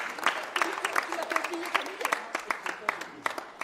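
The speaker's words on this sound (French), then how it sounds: "On l'applaudit" Audience applause for Ghislaine, a dense patter of many clapping hands at fairly even loudness with a voice speaking over part of it.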